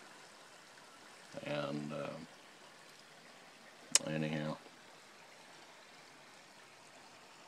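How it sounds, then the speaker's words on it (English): A small stream flowing toward the Neches River gives a faint, steady rushing murmur throughout, with someone speaking briefly twice over it. "only thing you hear is the water running"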